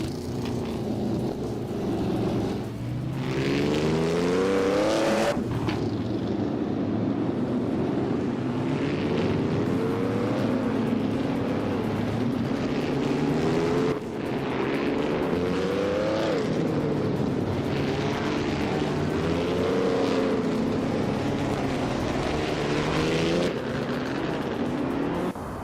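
Race cars roar around a tight track with high-speed straights in a racing video game, engines droning steadily and loud with rising and falling pitch sweeps as they accelerate and pass, continuous with no talk.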